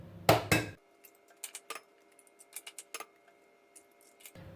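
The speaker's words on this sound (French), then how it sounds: "Ici, on commence par casser les œufs" Eggs cracked into a bowl for a pear and chocolate-chip cake batter: a couple of sharp knocks up front, then small drips, ticks and clinks of shell and bowl, close and quiet with no talk.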